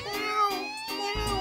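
A cartoon kitten gives a drawn-out, wavering meow, close and clear, lasting just over a second with a soft thump near the end.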